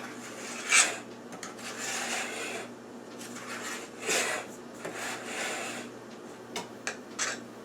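Graham cracker crumb crust pressed down into a pan with the back of a serving spoon makes soft, close scraping rubs in irregular bursts, a few sharper scuffs among quieter stretches.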